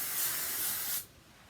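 A short burst of hairspray on a messy bun hisses loudly and close for about a second, then cuts off abruptly to near silence.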